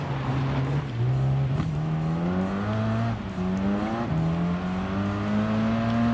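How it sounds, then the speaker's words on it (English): A rally-spec Nissan GT-R tears across dirt in Gran Turismo 7, its engine droning loud and steady as revs climb through the gears in repeated upshift sweeps, with no talk over it. "That's a dirt GTR, my friend. That's a rally GTR."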